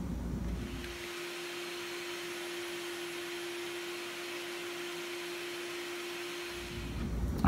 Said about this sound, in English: make the cuts for the offset using my dado stack on my table saw.